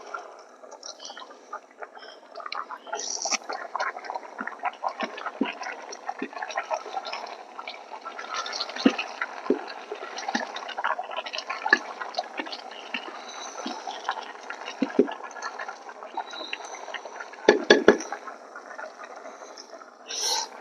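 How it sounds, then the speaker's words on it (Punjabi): Steady rushing pour of hot water into a pot of cooking mustard greens, a continuous splashing stream with small clinks and bumps, close by and fairly loud. "ਪਾਣੀ ਗਰਮ ਹੋ ਗਿਆ ਤੇ ਆਪਾਂ ਹੁਣ ਸਾਗ ਚ ਪਾ ਦੇਾਂਗੇ ਇਹ ਸਾਰਾ ਪਾਣੀ"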